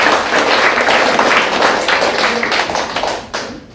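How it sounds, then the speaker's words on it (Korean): An audience at a rally breaks into big, loud applause, many hands clapping in a dense burst that holds steady, then thins and fades near the end. "여러분 같이 노력하신다면 큰 박수 한번 해주시기 바랍니다."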